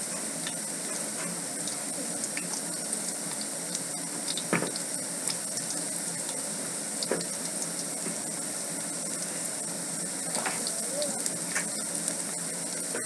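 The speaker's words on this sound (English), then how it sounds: "So we'll continue stirring. We'll continue stirring as they get brown." Onions, garlic and ginger browning in a pan, a soft continuous sizzle with occasional stirring clicks and scrapes, fairly faint and steady.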